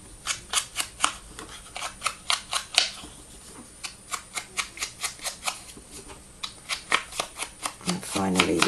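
Sponge dabbed repeatedly against paper card edges while making a handmade greeting card: a steady run of quick, close soft taps and pats in a regular rhythm, with a brief pause partway through.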